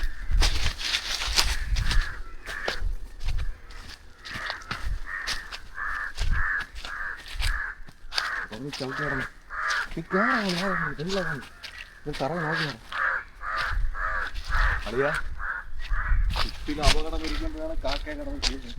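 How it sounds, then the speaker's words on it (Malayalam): Crows caw repeatedly, loud and close, in harsh overlapping calls while people talk nearby, in a forest in Kannur, Kerala. "കാക്ക പോടാ."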